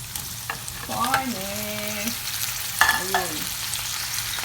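Pork rib meat drops into a pan with partly cooked onions and fries with a steady sizzle, while a voice speaks briefly over the close, moderately loud crackle.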